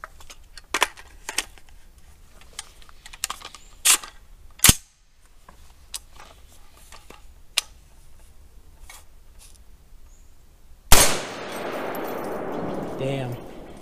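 Rifle shots from a Palmetto State Armory KS-47 gen 2 ring off steel targets on a range: a series of sharp, irregularly spaced cracks, with one loud close blast followed by a long noisy ring-out.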